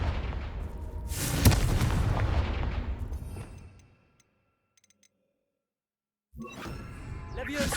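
A fiery Confringo spell explodes in Hogwarts Legacy with a loud booming blast that rumbles and fades over a few seconds. Near-silence follows, then another burst of crackling impact noise comes in at the end.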